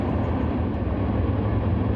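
Wisconsin Southern Railroad freight train passing some distance below, a steady low rumble and broad roar with no distinct clacks, continuous and moderately loud.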